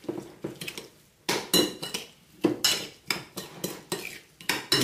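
A spoon stirring a sesame oil and minced garlic marinade in a bowl, with quick rhythmic clinks and scrapes against the dish, close and moderately loud, with no talking.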